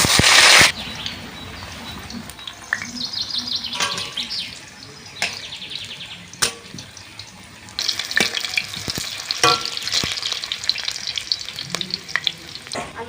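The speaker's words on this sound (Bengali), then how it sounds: "আলুগুলো ভেজে নেব।" Potatoes fry in hot mustard oil in a wok: a loud, close crackling sizzle broken by short pauses and sharp clanks and scrapes of stirring.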